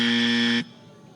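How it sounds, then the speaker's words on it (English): A loud electronic bust buzzer at a dog agility competition gives one steady, harsh tone for about half a second, then cuts off abruptly and leaves faint background noise. "we have heard that bust buzzer 3 times now"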